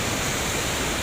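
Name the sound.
rushing water of Laguna Falls waterfall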